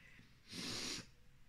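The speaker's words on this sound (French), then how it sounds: "Pardon, je renifle" One short, breathy sniff close to the mic, about half a second long, against a quiet background.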